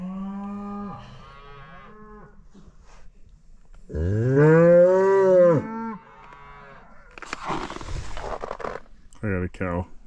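Beef cows at calving time on a farm with Simmental and Shorthorn bulls moo several times: a short call, then a long, loud, close bellow, and a brief final moo, with rustling and scraping between.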